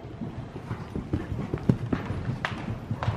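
Rhythmic hoofbeats of a pony cantering on soft ground during a riding lesson, a repeating three-beat pattern, moderately close and fairly quiet.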